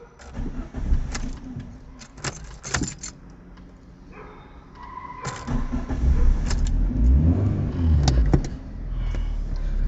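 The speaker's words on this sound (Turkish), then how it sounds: "Şimdi aracımızın bir sürüş testini yapacağız." A 2009 Fiat Punto Grande 1.4 Fire Active is readied for a test drive: clicks and key rattles, then the engine cranks and settles into a low, steady idle heard up close inside the car.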